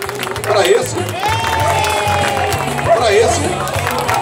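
Audience at an outdoor dog parade breaking into applause and cheers, a steady wash of crowd noise with clapping swelling in bursts while a voice talks over a loudspeaker.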